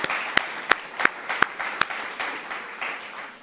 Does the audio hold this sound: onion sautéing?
no